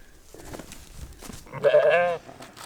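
A single wavering bleat from a sheep rings out near the end, loud and close, after quieter rustling and faint background sounds.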